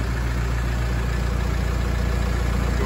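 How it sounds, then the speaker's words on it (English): A wireless crawler's engine idles at low speed in tortoise mode, a steady, even rumble with a fine regular pulse that stays close and constant, with no voices over it. "Now we're back in tortoise mode."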